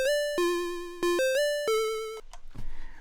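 A chiptune phrase from a Dirtywave M8 tracker: a run of about six bright, buzzy square-wave notes stepping up and down in a steady rhythm, closing on a higher note, followed by a couple of short noisy percussive blips, loud and alone.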